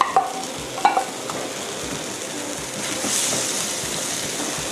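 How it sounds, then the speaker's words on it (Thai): Curry paste and sliced onions stir-frying in a pan for a Thai potato curry filling, a steady sizzle with a couple of spatula scrapes near the start, close and moderately loud, with no talking. "ผัดสักพักนะคะให้หอมพอสลดหน่อย"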